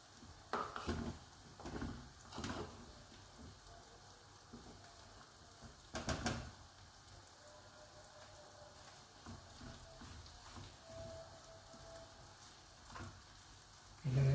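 Crushed garlic chili powder frying in oil: a quiet, steady sizzle with a few scattered knocks and scrapes of a spoon against the pan, near and low in level.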